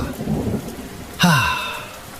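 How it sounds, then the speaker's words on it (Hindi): Heavy rain pours in a dense steady hiss, broken midway by a sharp, loud crack of thunder that rumbles and fades, with no talking. "बारिश काफी ज्यादा तेज पड़ रही होती है"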